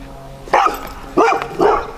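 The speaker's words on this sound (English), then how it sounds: "I got greeted by his dog, Bindi, who doesn't like cameras." A dog greeting an arriving visitor at a house gives three loud, close barks in quick succession, each short and sharp, with quiet pauses between.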